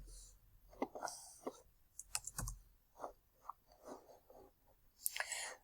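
Light clicking of computer keystrokes on a Windows 10 PC, scattered quiet taps in short bursts with brief pauses, close and soft, with faint murmured speech at times.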